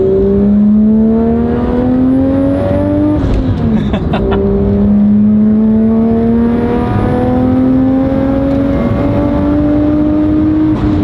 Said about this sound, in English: Let's go through the power band. First gear's good.